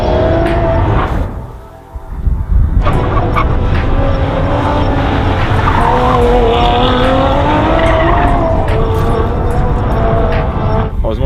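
A race car engine revs and roars nearby, with tires squealing as it slides through a corner, dipping briefly before surging again.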